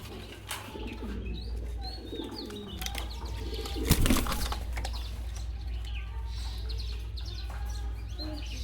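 Pigeons coo and chirp steadily at a pigeon warehouse, with a brief flutter of wings near the middle against a constant low hum.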